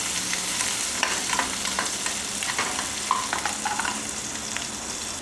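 Onions sizzle steadily in a hot pan for a tomato curry, with a continuous frying hiss and occasional scrapes and stirring clicks, close and moderately loud, with no voices.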